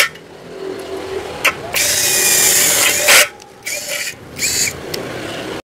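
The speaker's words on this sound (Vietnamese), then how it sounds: "Chuyển qua số 2 mình có thể bắn xà gồ được rồi." A Yupai 16.8V cordless screwdriver driving screws into a purlin: loud close whining motor bursts, first one long run, then shorter spurts with pauses and clicks between them.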